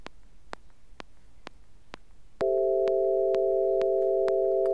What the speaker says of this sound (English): we get, again, just a sine wave.